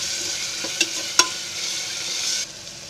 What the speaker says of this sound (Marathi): आता त्याच्यामध्ये टोमॅटो टाकते. ते पण चांगलं हलवून भाजून घ्यायचं